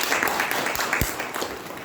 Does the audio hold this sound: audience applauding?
yes